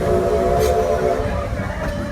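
The Heritage Park heritage train runs along its circular track with a steady rumble and a sustained tonal horn-like drone, loud and close, with no talk.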